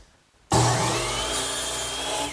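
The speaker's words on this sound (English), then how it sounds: "Now I'm going to square up one end of these leg blanks." Power saw squaring up the end of wooden leg blanks for a bedside table starts abruptly and cuts steadily with a loud, sustained whine close by.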